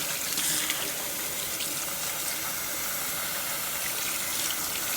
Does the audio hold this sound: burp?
no